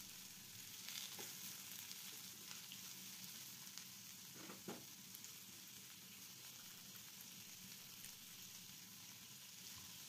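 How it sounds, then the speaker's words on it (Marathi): Chopped onion frying in hot oil, a steady close sizzle with faint crackles and a few soft stirring scrapes, no voices. "आता कांदा आपल्याला हे जवळपास 3 ते 4 मिनिट परतून घ्यायचा सोनेरी रंग होईपर्यंत"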